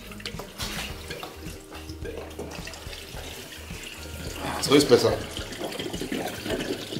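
Water is poured into a Mercedes 320 CDI diesel to check for leaks, with splashing and trickling close by under intermittent talk, swelling to a brief louder gush midway.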